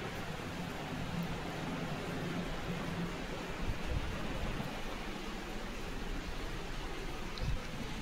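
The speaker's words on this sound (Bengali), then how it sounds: "প্রচণ্ড বৃষ্টি হচ্ছে" Heavy rain pours steadily and evenly, a dense, constant hiss close by with no let-up and no voices.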